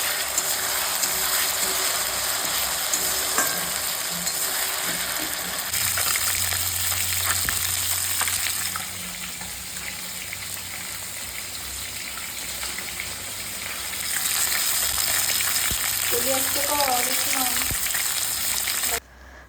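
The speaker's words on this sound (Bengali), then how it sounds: "এদিকে মাংসের মশলাটা কষিয়ে নিচ্ছি" Meat spice masala fries in a pan in a home kitchen, a loud continuous sizzle with stirring scrapes and clinks throughout, steady for most of the stretch and swelling louder near the end.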